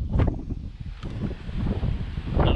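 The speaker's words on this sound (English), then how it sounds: "I feel the wind, hear the wind at the moment, but it's pretty windy up here." Wind blows across the summit of Castle Hill in Townsville, a rough, buffeting roar on the microphone that swells and fades in gusts over about three seconds, with no voices.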